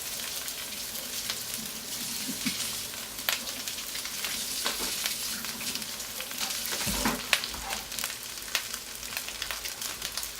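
Shrimp fry in a wok with a steady, dense sizzle that fills the whole stretch, broken by occasional crackles and pops and the odd stir of a utensil.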